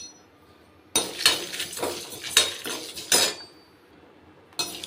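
Three dry red chillies roasting in a dry pan, stirred with clinks and scrapes of a utensil in short bursts separated by near silence, close by and fairly quiet; no talking.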